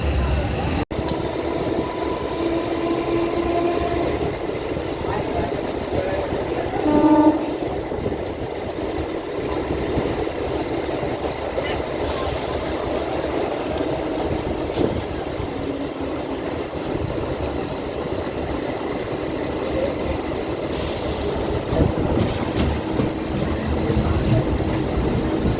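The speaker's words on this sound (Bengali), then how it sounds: "বন্ধুরা, ট্রেন এখন আমাদের চলেছে আমাদের জার্নির ফার্স্ট স্টেশন হৃদয়পুরে।" Barasat–Sealdah local train running, a steady rumbling roar of a moving carriage with brief squeals and rattles, continuous throughout with someone talking over it.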